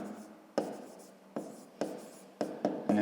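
A pen scratches out an answer on paper in a Ukrainian fifth-grade math exercise. Several short strokes come in quick bursts, each starting sharply and then trailing off, close up and quiet, with no talking.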